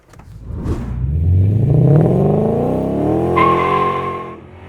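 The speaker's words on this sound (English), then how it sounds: "we're going to get our car out of the shop and do another blast to 60" A 2010-2014 Mustang GT with an acceleration pack makes a hard 0-60 launch with wheel spin. Tires squeal as the engine revs up and climbs steadily through a long, loud pull that eases off near the end, with no talk.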